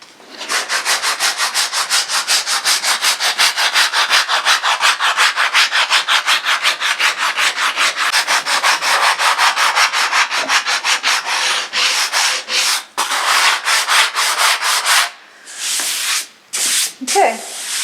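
Fast, steady back-and-forth rasping of a small 80-grit sanding block on a wooden boat plank scarf joint, loud and close, rhythmic strokes continuing for most of the stretch before slowing into a few separate rubs.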